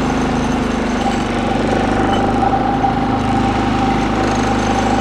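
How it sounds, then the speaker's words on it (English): A small Powerhorse 3500 watt inverter generator engine runs steadily and loudly, its hum thickening slightly as it settles under a heater load, with no talking. "then you'll should hear the engine kind of take"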